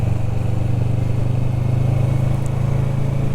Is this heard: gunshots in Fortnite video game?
no